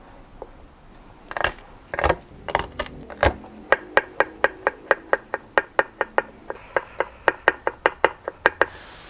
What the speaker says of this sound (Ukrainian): Нам залишилось нарізати чесночок.